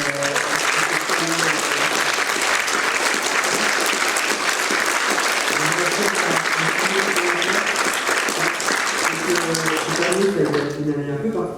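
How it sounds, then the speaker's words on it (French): Thunderous applause from a theatre audience at a science short-film screening night, dense continuous clapping filling the room throughout, with some voices audible toward the end. "Un tonnerre d'applaudissements pour les réalisateurs."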